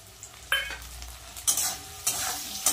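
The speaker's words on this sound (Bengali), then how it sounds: "এদিকে টমেটো পেঁয়াজ ভাজা হচ্ছে," Tomatoes and onions fry in a pan with a soft background sizzle, punctuated by four bursts of louder spitting and stirring, nearby and without any talk.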